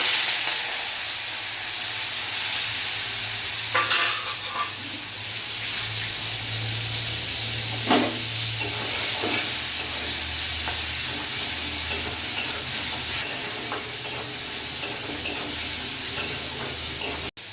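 Shrimp frying in hot oil seasoned with salt and turmeric, a loud continuous close-up sizzle with occasional stirring scrapes and clinks throughout.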